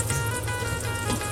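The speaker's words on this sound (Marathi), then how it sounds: "या साईडला मस्तपैकी बोईट फ्राय होत आहेत आपली." Boyt fish frying in a pan, a steady close sizzle and crackle of hot oil throughout, loud and continuous with no talking.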